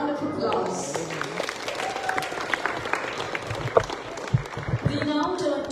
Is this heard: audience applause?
yes